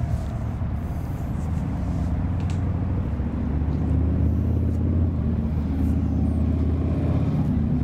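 A 2015 Harley-Davidson Wide Glide motorcycle fitted with a Vance & Hines exhaust, a deep steady rumbling engine note droning continuously and fairly loud, with no voices.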